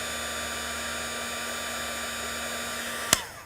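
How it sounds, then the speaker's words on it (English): A heat tool blows a steady, even hiss while melting embossing powder onto a fruit pit, a continuous airy rush with a faint hum beneath, ending in a brief sharp click near the end. "with a heat tool, I'm just heating and melting that powder right onto the pit."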